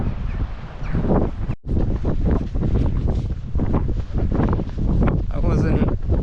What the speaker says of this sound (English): I wasn't right about the wind being any easier on this part of the coast.